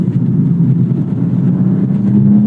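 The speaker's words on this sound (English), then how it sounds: "You're also getting a proper M engine here. More power, love the way that it builds." Turbocharged M engine of a BMW M240i (G42) revving, a dense low rumble close by that builds steadily in pitch over a couple of seconds, with no talk.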